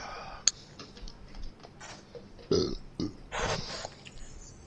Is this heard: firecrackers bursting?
no